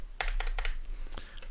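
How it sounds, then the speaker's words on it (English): Keys clatter on a computer keyboard in a quick run of distinct taps, close and moderately loud, then a few scattered presses. "Can you see what I'm typing?"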